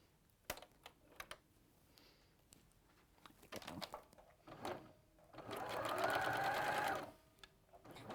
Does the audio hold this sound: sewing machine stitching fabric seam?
yes